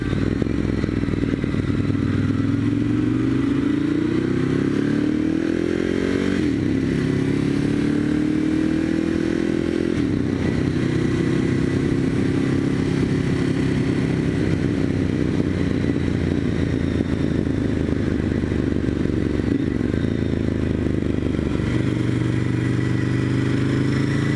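A Ducati M1100 Evo motorcycle being ridden on a road in Singapore, its engine a loud continuous drone that rises and falls through several revving gear changes, heard close up with no talking.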